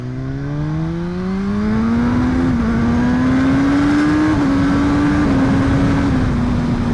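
An HP4 Race track motorcycle engine revs hard on a canyon road and climbs steadily in pitch, loud and close, with brief dips at gear shifts before pulling higher again.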